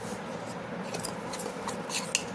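A metal spoon handled near a bowl of chocolate, giving light clinks and faint scraping over a steady indoor hiss, with a small sharp tap near the end.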